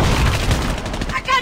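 Dense gunfire in Call of Duty Mobile multiplayer, a continuous rattle of close shots filling a short burst of game action, with a voice speaking briefly.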